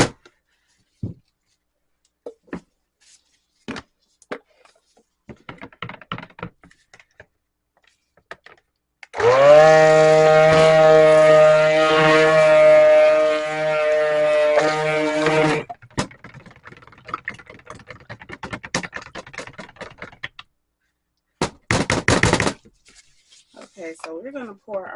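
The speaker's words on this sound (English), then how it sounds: "Now we're going to go in with our stick blender." A stick blender mixing cold process soap: a steady motorized whir with a strong hum runs for about six seconds, loud and close, between stretches of quiet handling noises.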